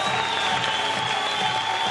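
Arena crowd cheering and applauding for a British diver from Edinburgh at the women's 3 m diving final, European Championships Glasgow 2018; a steady, dense wash of cheers and clapping throughout.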